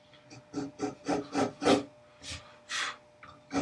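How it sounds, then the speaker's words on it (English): A wood chisel pares out a tapered sliding dovetail corner in a series of about six rhythmic, close rasping strokes, followed by a few slower, separate cuts. "these chisels, they get in them corners really, really nice"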